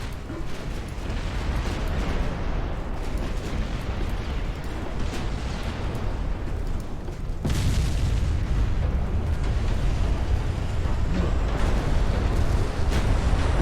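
Warships blowing up in the naval game Ultimate Admiral Dreadnoughts, with a continuous heavy rumble of explosions and gunfire that swells into a louder, denser roar about halfway through; no talking.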